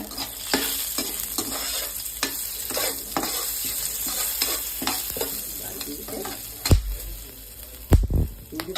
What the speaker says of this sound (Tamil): கிராம்பு 4, ஏலக்காய் 2, பிரிஞ்சி இலை 1 3 போட்டு நல்லா வதக்கிக்கங்க.